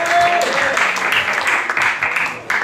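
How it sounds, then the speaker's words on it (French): An audience at a casino anniversary gala claps in a lively, uneven burst with rising and falling swells, while voices speak and call out over it. "On peut l'applaudir très fort encore."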